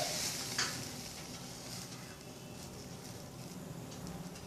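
Bread sandwich toasting in a hot pan gives a steady, even sizzle throughout, with one brief brighter crackle near the start and no voices.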